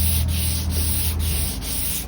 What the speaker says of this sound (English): And then 220 by hand, just softening all the corners and edges.